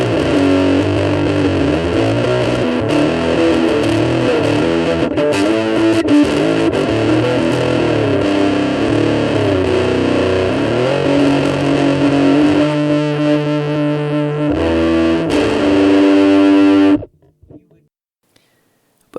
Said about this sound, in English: The amp is basically utterly overloaded, and it's got a wonderful extreme quality to it.